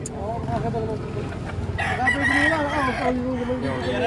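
Roosters at the chicken market in Padre Garcia, Batangas give a drawn-out crow that swells midway, set against steady market chatter with people talking nearby.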